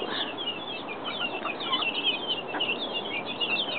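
Chickens clucking close by in a steady, busy stream of short, overlapping calls and chirps, with a faint flutter of movement running underneath.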